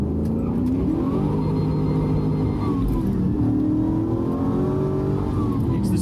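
A 2004 Holden Commodore HSV with a 5.7-litre LS1 V8 revs hard while driving, a loud, steady engine roar with rising and falling pitch across the whole stretch and no talk over it.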